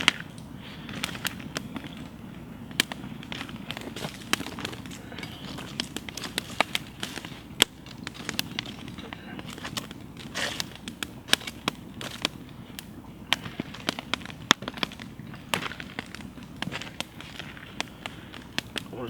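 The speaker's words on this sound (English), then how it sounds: "the fire's certainly blazing away" Campfire blazing outdoors in the Galloway Forest on a winter camping trip, with dense irregular crackles and sharp pops over a steady low roar, heard close and continuous.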